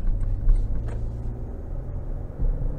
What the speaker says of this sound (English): I love that blow-off valve. It sounds really, really beefy.